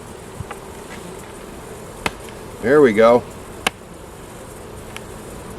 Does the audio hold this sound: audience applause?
no